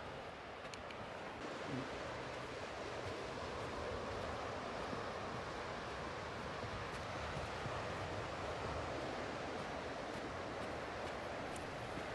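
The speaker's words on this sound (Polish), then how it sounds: "W końcu wchodzimy na plażę i popodziwiajmy przez chwilę wzburzone morze." Rough, churning Baltic Sea surf breaks on the beach at Jastrzębia Góra, a steady broadband wash of waves mixed with wind buffeting the microphone, continuous and fairly close with no voices.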